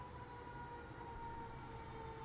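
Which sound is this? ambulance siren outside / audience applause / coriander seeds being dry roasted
ambulance siren outside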